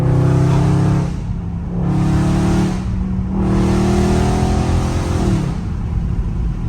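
A Dodge Scat Pack muscle car engine roars loudly and close at full throttle, revving hard in repeated surges with brief dips between bursts, deep and throaty throughout.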